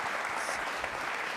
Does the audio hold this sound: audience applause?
yes